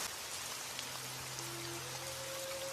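Heavy rain falls steadily as a story sound effect, a dense even patter with faint sustained tones running beneath it.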